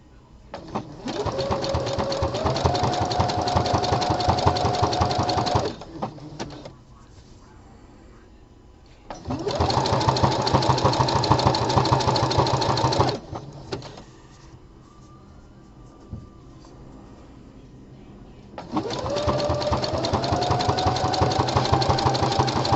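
A home sewing machine stitches a gusset panel on boxer briefs using bulky nylon thread in the bobbin, running in three steady bursts of close, even motor whir with short quiet pauses between them.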